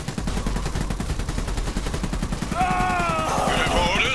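Rapid gunfire from Iron Harvest battle, a steady stream of close, sharp shots pulsing like machine-gun bursts, with game voice effects and chatter rising near the end.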